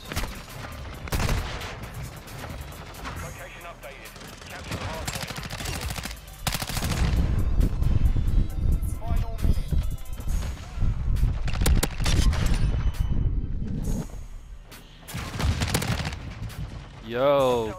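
Gunfire from a Honey Badger rifle in the Modern Warfare video game crackles in rapid bursts and single shots across the match, with in-game explosions and a player talking over the action.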